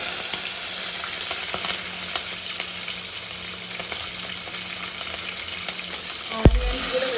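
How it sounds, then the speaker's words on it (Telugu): Chopped chillies fry in hot oil with bay leaves, shahi jeera and cloves for a mutton curry, giving a close, steady sizzle; a single clunk sounds near the end. "ఇక ఫ్రై అయిన తర్వాత ముందుగానే కట్ చేసుకున్న మిరపకాయలను అయితే వేసేస్తున్నాను."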